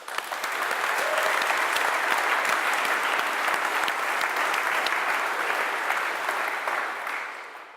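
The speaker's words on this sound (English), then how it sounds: "So please give them a massive round of applause." A conference keynote crowd at the Umbraco UK Festival gives the organising crew a steady, enthusiastic round of applause, evenly loud throughout before dropping away at the end.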